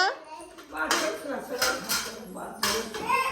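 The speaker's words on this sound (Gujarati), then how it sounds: "બા વાસણ કરે છે" Dishes and metal utensils clatter and clink as they are washed and set aside, with repeated close, bright clanks and scrapes under people talking.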